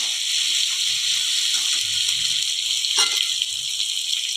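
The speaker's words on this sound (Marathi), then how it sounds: "हे वाटण चांगलं परतून घेऊया" A steady hiss of ground spice paste frying in hot oil fills the clip, loud and close, with a brief splash of sizzle partway through. No voices.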